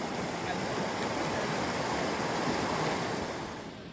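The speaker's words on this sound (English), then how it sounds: "the river still flows today. Today it's flowing pretty fast because of the rains." A fast-flowing river swollen by rains runs past the Palenque Mayan ruins in Mexico, a steady, loud broadband rush of water that holds constant before easing slightly at the end, with no voices.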